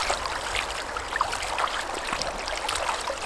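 Laundry being rinsed of soap by hand at a campsite, steady splashing and trickling water with small irregular sloshes, close and continuous, no voices.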